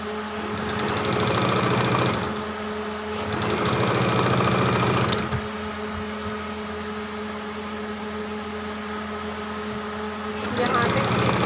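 An electric sewing machine stitches fabric for a two-year-old's designer frock, running in loud, steady mechanical bursts separated by quieter pauses with a persistent hum underneath.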